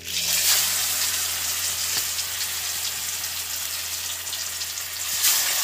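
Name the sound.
large sea fish frying in hot oil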